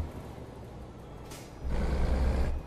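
A truck in Euro Truck Simulator 2 comes to a stop, with a burst of air-brake hiss and a steady low engine rumble rising toward the end, heard alone without talk.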